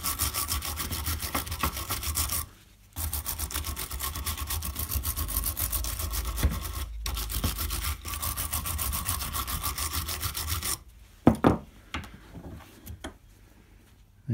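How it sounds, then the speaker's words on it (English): A wire brush scrubs the wheel bolt threads of a Mercedes Sprinter during a brake disc and pad job, making rapid rhythmic scratching strokes up close that pause briefly twice and then give way to a few clanks and quieter handling. "it's worth just getting a wire brush and just giving those threads a bit of a clean out"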